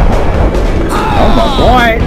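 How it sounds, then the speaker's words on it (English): A grenade explodes in the video game Max Payne, a loud, rumbling boom filling the short moment, with excited voices talking over the blast. "He threw another grenade."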